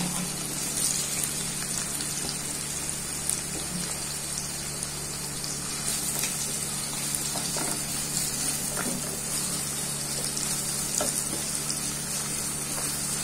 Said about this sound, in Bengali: আমি পেঁয়াজটাকে নরম হওয়া পর্যন্ত একটু ভেজে নেব